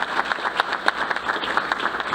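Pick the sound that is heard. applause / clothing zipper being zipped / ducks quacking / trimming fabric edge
applause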